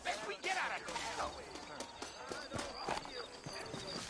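Horse hooves clop in the Red Dead Redemption Remaster, set in a town, with irregular footfalls and a horse snorting amid background bustle and faint voices.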